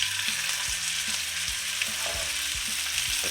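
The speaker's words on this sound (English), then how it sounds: "Listen to that sizzle." Lamb loin chops frying in oil in a very hot cast iron pan, a dense close crackling sizzle with scattered pops and faint utensil knocks underneath.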